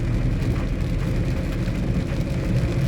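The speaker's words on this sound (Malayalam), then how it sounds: "നല്ല മഴ ഇനിയിപ്പോൾ വാവ് വരെ ഇങ്ങനത്തെ അവസ്ഥയായിരിക്കും" Heavy rain while driving a vehicle slowly, a dense, steady roar of downpour mixed with road and engine rumble, loud and unbroken throughout with no voices.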